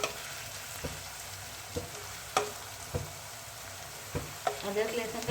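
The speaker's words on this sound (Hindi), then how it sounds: "अदरक लहसुन का पेस्ट हमारा प्याज के साथ भुन चुका है।" Ginger garlic paste browning with onions in a pan for an Indian-style potato and chilli curry: a steady low sizzle with sharp scrapes and stirs at irregular intervals, no voices.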